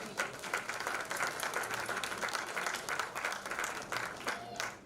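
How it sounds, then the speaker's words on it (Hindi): An auditorium crowd at a cultural evening at the Indian Institute of Coal Management claps loudly, a thick, sustained wash of many hands with a voice faintly mixed in. "एक बार जोरदार तालियों से सभागार को गुंजायमान करें"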